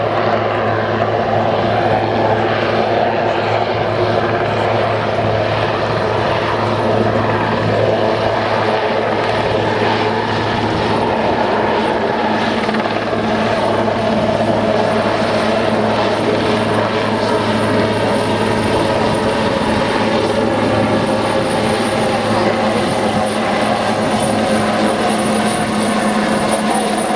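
A helicopter flying at the RIAT 2014 airshow gives a loud, continuous rotor and engine drone that stays steady and close throughout, with no pauses.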